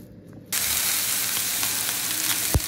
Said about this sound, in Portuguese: a gente tá grelhando o bacon